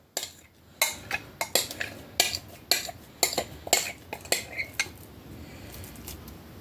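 Metal utensils clink and scrape against an 8x8 or 9x9 baking pan as potatoes are spooned in, a run of sharp, close knocks and rattles at an irregular pace with short pauses.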